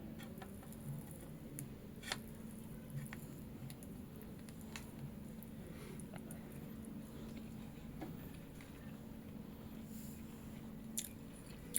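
Quiet, close chewing of cooked broiler chicken meat, with soft irregular clicks and squishy bites repeating steadily over a low steady hum, no talking.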